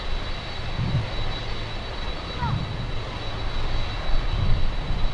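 An airliner's engine roar at Miami International Airport, a steady broadband rumble with a thin high whine, heard from a distance through a live spotting stream with a voice talking over it.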